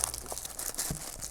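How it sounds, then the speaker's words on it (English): Thin plastic bag crinkles briefly as it is pulled off a small orange carry case for an action camera, quiet, close and scratchy, with no talking. "Let's take the plastic bag off."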